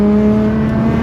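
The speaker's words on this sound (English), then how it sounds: "Yeah, I love the sound of GTRs." A Nissan GTR engine holds a loud, steady droning hum with a strong low tone, heard close and on its own with no talk.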